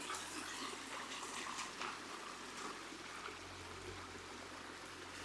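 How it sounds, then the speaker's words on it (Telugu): Water gushes steadily along a farm irrigation canal, a constant rushing flow heard from nearby at a low level, with no voices. "ఈ నీళ్ళు ఇట్లా దుముకుతూ ఉంటే"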